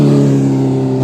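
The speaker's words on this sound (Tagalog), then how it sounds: "Ang bilis ng mga ano dito, mga motor to." Motorcycles speed along the road by the Esplanade on the Pasig River, their engines making a loud, steady, close roar that holds without a break and carries no talk.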